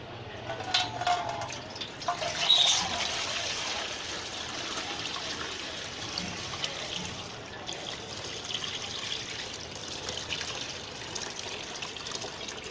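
Water trickles and pours steadily into a homemade cooling sharbat mixture, a soft, fairly faint continuous stream with a slightly louder splash early on, and no talking.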